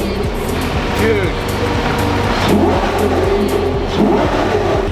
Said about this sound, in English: You just have to hear this V12.